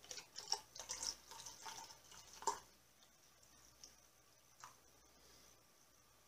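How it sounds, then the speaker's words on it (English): Pumpkin spice latte mix is poured into a cup of coffee, making a faint, close trickling pour with a few small splashy accents for about two and a half seconds before the room goes nearly silent. "And you just pour one into the other."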